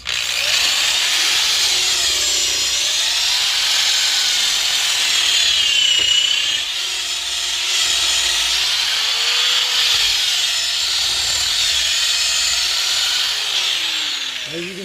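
A power drill grinds loudly and steadily at close range, chewing through worn rubber rear control arm bushings on a Ford Mustang, with the pitch wavering as the bit bites. No talk is heard over it.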